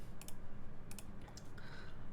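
Typing on a tenkeyless mechanical keyboard with linear Cherry MX Black switches in an aluminum case, a few soft clacks over a steady hiss, faint and close.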